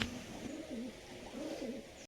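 Low rolling coos from Madrasi pigeons come in a few repeated phrases at moderate volume over quiet room noise, ending with a brief thump.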